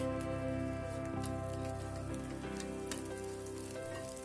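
Egg batter poured onto a hot Teflon pan, giving a soft, steady sizzle over a sustained humming tone, continuous and fairly quiet with no talking.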